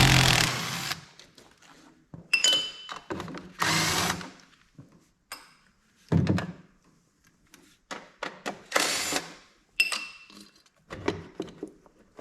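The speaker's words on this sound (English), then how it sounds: "Now we can start pulling these 8mm bolts out." Bolts coming out of a Snapper zero turn mower, a bench-style tool whirring in repeated short bursts with metallic clinks and ticks in the pauses between them, close and fairly loud.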